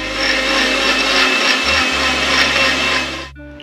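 Ice and coconut for lassi whirl in a close, loud electric blender, a continuous grinding roar with a brief dip in the motor's drone partway through before it cuts off.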